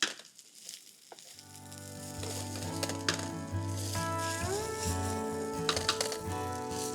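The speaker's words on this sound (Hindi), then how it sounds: "बस ऐसे घुमाते रहना है और चलाते रहना है। थोड़ा थोड़ा पुलाव जो नीचे लगे ना तो अच्छा है।" Pulao being stirred and fried on a hot tawa, a steady loud sizzle with scraping and clinking of the spatula against the pan, building as the rice spreads and continuing without pause.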